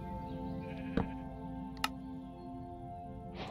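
Sheep bleating in the video game Minecraft, a short bleat near the start and a second brief call later, over a steady hum of game background sound.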